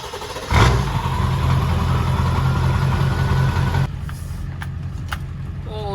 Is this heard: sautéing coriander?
no